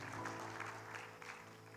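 Congregation applause during an Indonesian Sunday church service, a steady wash of clapping from a large crowd with a low musical hum underneath, sustained throughout.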